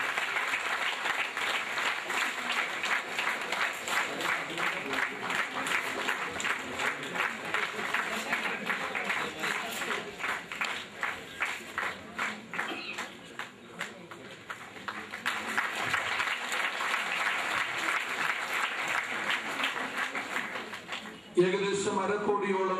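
An audience applauds at an Orthodox church consecration event, a sustained, even patter of many hands at moderate distance that lasts most of the stretch, briefly dipping midway and fading near the end, with voices murmuring underneath.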